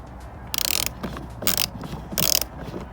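A hand ratchet working a bolt in a car engine bay, heard up close as three separate bursts of rapid clicking separated by short pauses.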